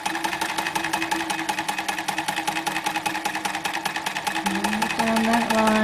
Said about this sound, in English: So here we are at the machine sewing our two B pieces together.